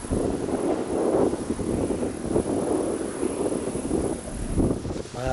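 Brisk wind buffets the microphone during a bike ride across open Saskatchewan prairie near Plunkett, giving a loud, continuous rumbling roar with gusty surges and no voices.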